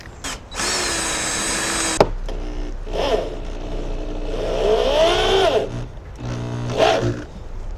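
A power drill drives screws into a wooden post, with a couple of bursts of motor whine and ratcheting, clearly audible and fairly close, without any talk.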